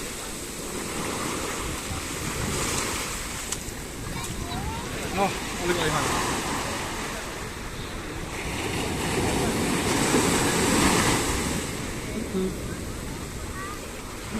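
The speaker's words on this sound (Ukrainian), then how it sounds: "Це океан." Atlantic ocean surf at Puerto de Santiago, Tenerife, breaking on a rocky shore, a continuous loud roar of waves with rising and falling surges, buffeted by wind on the microphone, with someone speaking briefly over it.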